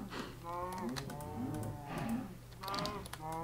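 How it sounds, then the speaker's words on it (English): Minecraft cows in the MineFactory Reloaded mod mooing repeatedly, several drawn-out low moos overlapping in a loose rhythm, moderately quiet over soft keyboard clicking. "Now I'm going to place down some more cows until we get a decent amount of it."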